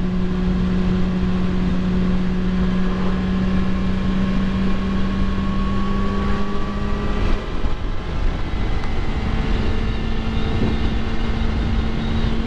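A motorcycle engine drones steadily, cruising at highway speed on Saddle Road, Big Island, Hawaii, with a sustained hum that shifts pitch partway through as if changing gear, plus road noise.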